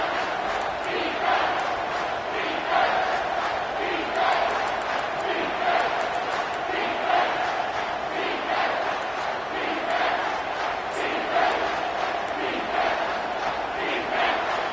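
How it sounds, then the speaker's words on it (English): A football stadium crowd at an Auburn versus Miami game roars steadily and loudly throughout, with a commentator talking over the sustained cheering. "This crowd knows this defense needs them right now."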